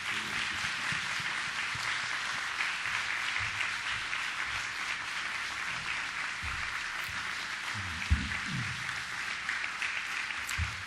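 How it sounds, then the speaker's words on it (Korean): Steady applause from a church audience, a continuous wash of many hands clapping at moderate distance for about eleven seconds with a few louder claps near the end and no speech. "뜨거운 박수로 모시겠습니다"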